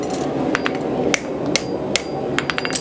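A farrier's hammer strikes metal in a workshop, a series of sharp ringing clanks at irregular intervals, about ten blows, over a steady background hum.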